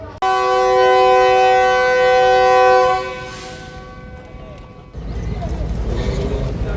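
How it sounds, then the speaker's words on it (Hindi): A Badar Express train departs Faisalabad railway station with a loud, sustained horn blast lasting about three seconds. Rumbling station and train noise continues and swells afterward. "सो पहले आए बदर एक्सप्रेस का जो रवानगी है फैसलाबाद से वो देख लेते हैं"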